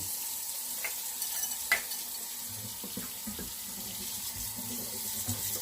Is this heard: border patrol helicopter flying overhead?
no